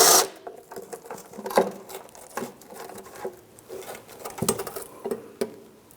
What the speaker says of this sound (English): I'm going to take my 10mm socket, I'm going to support that pan and remove it